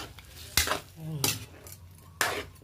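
Metal utensil stirring and scraping beans in a pan, three sharp clanks against the pan with softer scraping between, close and fairly loud.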